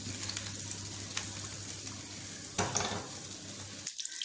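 A teaspoon of ghee heats in a pan for semolina kanji, giving a soft, even sizzle with a faint hum for about four seconds before it cuts to silence.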